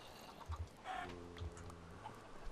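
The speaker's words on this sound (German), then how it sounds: "Diese Hühner hier." Chickens in the Minecraft video game cluck faintly in a few short, separate bursts, alone against a quiet background.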